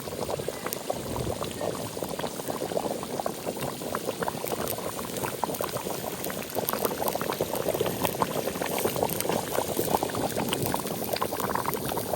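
Water with chicken in it boils vigorously in a pot, a steady close bubbling and churning that continues unbroken, with no voices.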